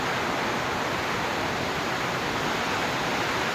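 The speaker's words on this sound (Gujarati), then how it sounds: "બારોબાર ફૂલ પવન છે ફૂલ વરસાદ છે" A constant, loud rush of downpour and wind fills the air, steady and unbroken throughout.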